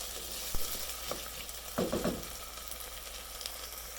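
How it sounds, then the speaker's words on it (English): Food frying in olive oil in a pan, a soft steady sizzle with a couple of brief scrapes and taps from stirring near the middle. "So we throw this in the pan with some olive oil and fry them up."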